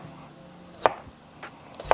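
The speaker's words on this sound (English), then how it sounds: "you see it kind of like dices itself." A sharp knife dices food on a cutting board while a patty melt is prepared, giving three crisp, separate thuds spread across a quiet, close-up background.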